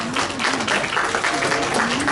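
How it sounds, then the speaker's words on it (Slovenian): Guests at an opening event for a language school and quilt studio applaud a young girl's sixth birthday, a dense, steady, fairly loud wash of clapping with a voice audible underneath. "pa en velik aplavz za 6. rojstni dan naše Lare"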